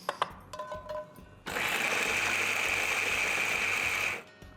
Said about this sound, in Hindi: अब इसको हम यहाँ पे ना मिक्सी में घुमाएंगे.